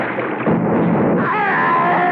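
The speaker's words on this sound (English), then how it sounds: "I thought I heard the roar of a heavy weapon, like an old-fashioned cannon" Roar of an old-fashioned heavy cannon as a radio drama sound effect, a loud sustained booming rumble filling the whole clip with no speech.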